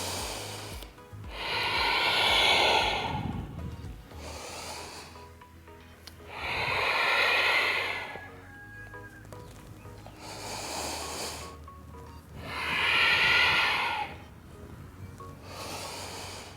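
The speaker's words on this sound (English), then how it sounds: "Work with your breath." Deep, slow breaths drawn in and pushed out through the nose during a yoga exercise, three long airy waves about six seconds apart, close and fairly loud with quiet pauses between them.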